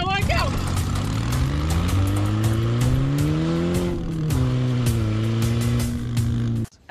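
Race car in a video game, its engine note climbing and holding through gear changes with faint tire squeal, loud and up close, with speech over it.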